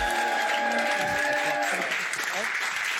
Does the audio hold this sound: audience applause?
yes